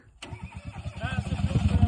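A car engine cranks and catches while attempting to start a sturdy car being tested for toughness, a steady rhythmic chugging that grows louder over about two seconds, close by.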